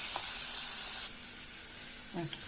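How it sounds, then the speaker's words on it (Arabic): Chicken liver and onions sautéing in a pan, a steady soft sizzle for about a second that drops quieter, followed by a short burst of voice near the end. "نشوح الكبدة بالبصل عشان الكبد ما بتاخدش سوا"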